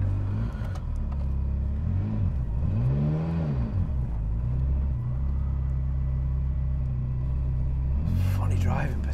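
A Ferrari F40 engine rumbles steadily from inside the car while driving, with a few rising revs and one sharp burst near the end, and a person talking over it.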